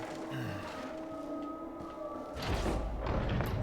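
A muffled explosion goes off in the video game Resident Evil 7, a deep low thud that swells partway through and then lingers as a rumbling boom. It is preceded by quieter in-game ambience and tonal hum.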